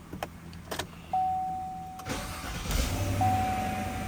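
A 2017 Silverado with the 5.3L engine, fitted with a new starter, starts up: faint clicks and a tone come first, then the engine catches and settles into a steady idle nearby with no talking.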